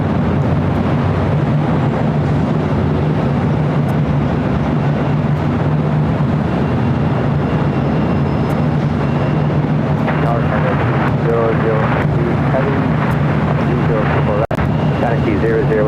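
An EVA Air heavy airliner on short final to land at LAX, with a steady, loud, broadband jet engine roar and low rumble filling the whole stretch, with no voices.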